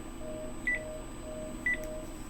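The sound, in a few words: another phone ringing through to voicemail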